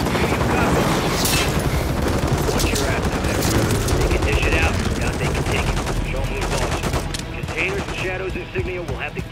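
Call of Duty Modern Warfare combat with heavy gunfire from multiple locations. Rifle and machine-gun bursts mix with booms in a loud, continuous barrage, and voices come through under the shooting.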